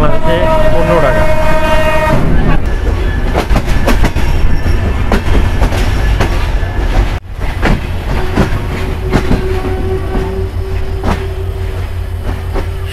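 The Chilahati Express pulls into Santahar railway station, its horn sounding loudly at first, then a heavy rolling rumble and clatter of carriages close by, with a voice faintly audible beneath.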